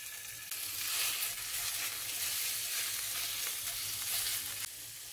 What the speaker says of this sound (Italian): Versiamo la carne tritata